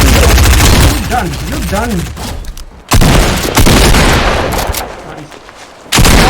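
Rapid loud gunfire bursts in Fortnite Battle Royale, sharp cracking shots in clusters with abrupt loud onsets near three and six seconds, heard over an excited talking voice.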